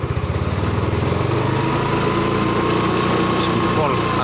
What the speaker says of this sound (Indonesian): Kalau misalnya kita gas, misalnya saya gas, berapa kira-kira tegangannya?